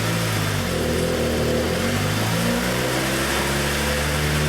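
A 2017 Suzuki GSX-R1000 motorcycle engine runs during a dyno-style test run on the stock ECU, a loud, steady droning rumble with layered harmonic tones that rise and shift slightly as the revs build.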